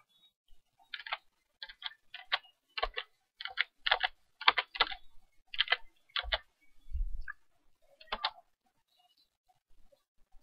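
Computer keyboard typing a short layer name in GIMP, a series of quick close key taps in irregular bursts, followed by a single louder keystroke and a few faint taps.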